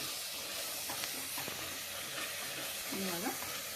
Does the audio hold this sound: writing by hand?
no